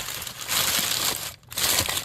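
Packed sun catcher ornament being unwrapped from its packaging, with loud, continuous crinkling and crumpling of wrapping material across two bursts separated by a brief pause.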